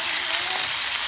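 Onion paste frying in oil in a pan for a spicy potato gravy curry, giving a steady, close hiss and crackle with no pauses.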